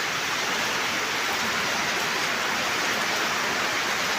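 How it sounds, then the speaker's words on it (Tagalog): Heavy rain pouring outdoors, a dense, even hiss of steady downpour that fills the whole stretch at constant loudness, with no voices. "Ito, ang lakas ng ulan dito sa amin, no?"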